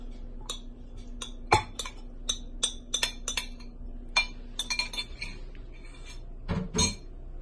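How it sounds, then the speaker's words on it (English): A spoon clinks against a glass bowl as rice is added for rice and tuna balls, giving a run of sharp, close taps and clinks at irregular intervals over a quiet room. "We're gonna add our rice."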